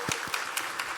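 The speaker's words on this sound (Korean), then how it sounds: "그 하나님께 우리 감사 영광의 박수 올려드립니다." A church congregation at a Sunday morning service applauds in thanks, a short burst of scattered, moderately quiet hand claps.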